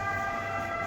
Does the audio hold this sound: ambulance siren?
yes